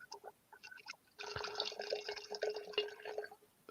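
Liquid is poured into a glass in a steady splashing stream, preceded by a few drips, close and clear with no talk over it.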